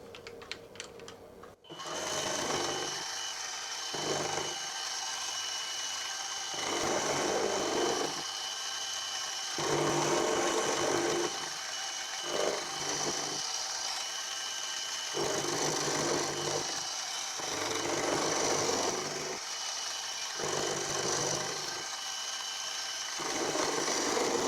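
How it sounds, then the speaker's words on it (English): Milling cutter taking a flat on a cast base for a Quorn Mk3 tool grinder, a steady loud mechanical whine and rumble running continuously, with rhythmic rises and dips in the lower tone as the cut engages and eases. "We'll start by milling this flat so we've got a flat surface to work from."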